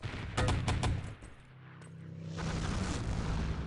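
A grenade goes off in a competitive Enemy Territory match, a loud burst of crackling gunfire and blast noise up front, fading to a low rumble before another rough wash of game noise rises.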